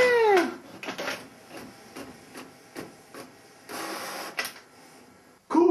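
A home printer prints a paper craft sheet with a rhythmic run of close mechanical whirs and clicks as the paper feeds through, and no one speaks.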